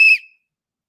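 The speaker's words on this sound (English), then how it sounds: "See, my whistle ain't like everybody else whistle." A single sharp human whistle, bright and loud, lasting a fraction of a second before cutting off into silence.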